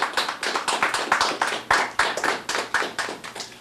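A small audience at a festival press conference claps for the festival committee and volunteers; the claps are distinct, rhythmic and fairly close, a modest round rather than a roar.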